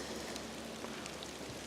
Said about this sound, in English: I'm on my stand, and it's snow hailing right now.